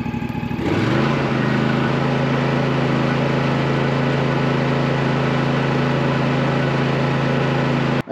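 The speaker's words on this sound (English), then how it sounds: "then we'll go up to full throttle" A Toro Timecutter zero-turn mower engine climbs quickly from idle to full throttle within the first second, then holds a loud, steady high-revving drone until it drops away at the very end.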